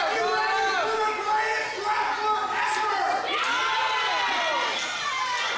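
A crowd at a professional wrestling show cheers and shouts, a dense roar of many voices with a pitched rise and fall of excited yelling that holds steadily loud throughout.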